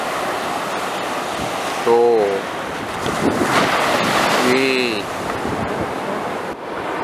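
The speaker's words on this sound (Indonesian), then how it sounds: "Ombakna gede sis." Big ocean waves wash and roar continuously at Sayang Heulang beach in Pameungpeuk, Garut, under steady wind buffeting the microphone, while people exclaim briefly.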